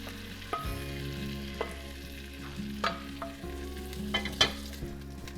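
Chopped celery, red onion and peeled cubed potatoes frying in butter and bacon grease in a farm kitchen pan, giving a steady low sizzle broken by occasional stirring scrapes and clinks, close and moderately quiet, with no talk.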